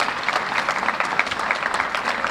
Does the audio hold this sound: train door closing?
no